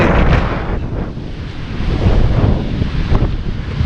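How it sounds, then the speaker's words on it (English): Strong wind buffets the microphone in a steady, loud roar, with choppy water and surf churning underneath beside a running Black Jack 42 RC boat. "It's really windy."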